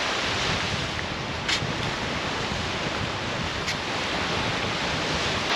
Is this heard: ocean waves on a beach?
yes